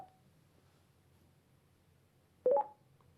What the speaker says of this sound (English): To start an intercom conversation, simply press the intercom button quickly